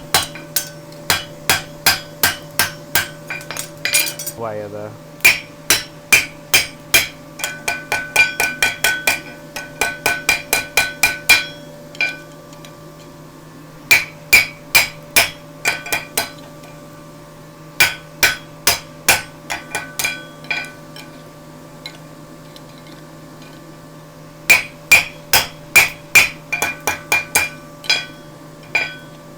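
Sharp metallic hammer blows on a horseshoe being forged ring out in quick bursts of several strikes each, separated by short pauses, loud and close throughout.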